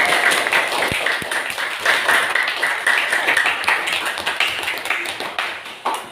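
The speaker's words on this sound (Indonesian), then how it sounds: "Kasih aplaus buat" Students in a school classroom give a round of applause, a steady, dense clatter of many hands clapping together that holds throughout without a break.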